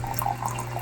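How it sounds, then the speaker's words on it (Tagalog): Hot water pours in a brief steady liquid trickle, close and moderately loud, with no talk over it. "Mainit na tubig."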